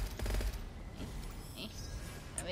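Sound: gunfire in the video game Gunfire Reborn

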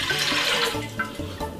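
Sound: pouring a glass of water into a cooking pot

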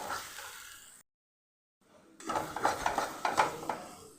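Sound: mixing patol with salt, turmeric, chilli powder and sugar in pan

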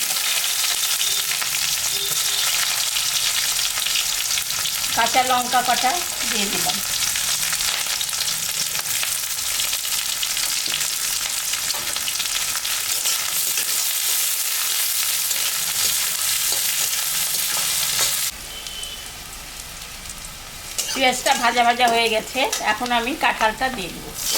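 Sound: chopped onion frying with cumin, dry chilli and bay leaf

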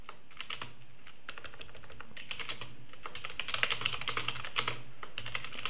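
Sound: typing closed captions on a computer keyboard

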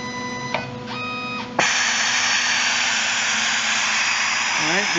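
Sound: Conceptronic Freedom 3000 BGA rework station heaters warming up

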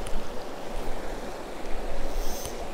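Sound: slow-moving river water

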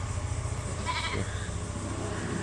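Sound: goats bleating

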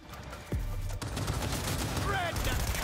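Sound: gunfire in video game Cyberpunk 2077 Phantom Liberty

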